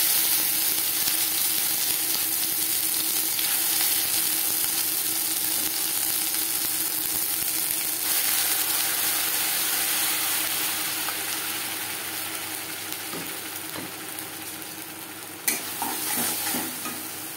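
Stuffing for pointed gourd frying in mustard oil and being stirred, a dense steady sizzle with faint scraping that eases slightly toward the end, then a sharp knock and a few stirs, close and without speech.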